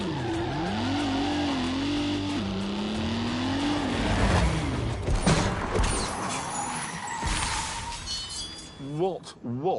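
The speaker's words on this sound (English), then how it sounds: "What was that noise? Whole car's vibrating." A car engine revs and whines through rising and falling pitch, with rattling and clinking vibration, then a brief sharp clatter near the end.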